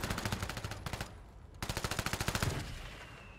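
Rapid automatic gunfire bursts in the Warzone video game, two fast rattling volleys separated by a short pause, loud and close with no talking.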